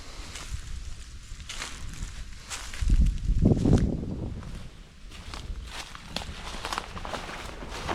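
Footsteps of a hunter creeping up a ridge line on an East Texas ranch while stalking feral hogs, soft crunching steps on brush and leaves, a heavier patch of steps in the middle, quiet outdoors with no talk.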